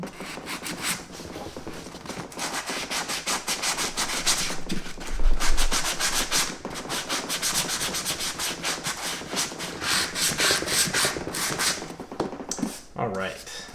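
Sandpaper rubs across a Lucchese 2000 Roper leather boot in quick, steady back-and-forth strokes, close and continuous, with a brief lower thump near the middle.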